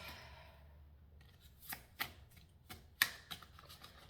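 Tarot cards are shuffled for a reading, making faint, irregular papery riffles and soft snaps in a quiet room with no talking.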